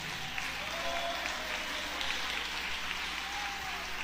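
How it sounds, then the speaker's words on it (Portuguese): A church congregation claps steadily and densely throughout, a continuous wash of hands with no pauses, loud and close. "Vamos melhorar essas palmas."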